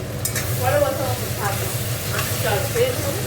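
Artangra fish and capsicum stir-fried in a pan, a steady close sizzle with repeated scraping strokes of a spatula, loud and continuous with no talk.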